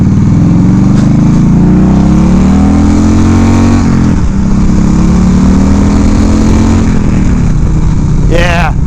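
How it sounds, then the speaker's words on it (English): A loud 1996 Harley-Davidson Evo Low Rider motorcycle engine revs and drops in pitch as it shifts gears, a deep continuous rumble running throughout. "I know that's a pretty typical Harley sound"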